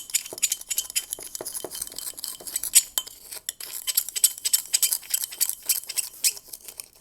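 A spoon stirs coloured salt in a glass, making a steady run of close, bright clinks and gritty scrapes with irregular rhythm, no talking.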